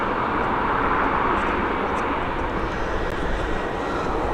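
A jet airliner climbs away after takeoff at Dublin Airport under cloudy skies, producing a steady, heavy engine roar that holds loud and even across the whole stretch.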